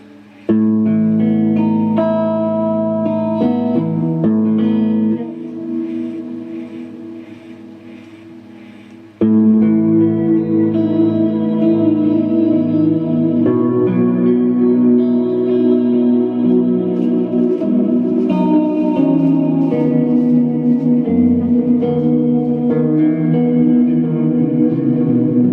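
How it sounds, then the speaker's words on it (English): Guitar notes ring out through a lush reverb from a Specular Tempest reverb pedal, chords and melodic lines washing into a long, shimmering tail, with a brief quieter swell midway before playing resumes. "the Specular Tempest, different reverb sound"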